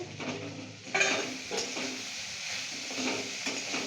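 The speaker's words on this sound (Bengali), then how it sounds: "এবার চিড়েগুলো মা দিয়ে দিচ্ছে" Washed, dried poha tipped into a pan and stirred, giving soft scraping and light sizzling with a few utensil knocks against the pan, close and fairly quiet, with no talk.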